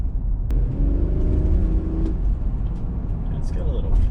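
Car on a test drive ahead of a flip project, with steady engine and road rumble throughout, a brief revving rise early on and a short whir near the end; speech is faintly present under the driving noise.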